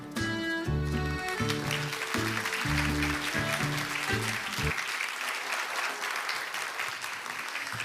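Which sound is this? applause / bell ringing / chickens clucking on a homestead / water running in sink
applause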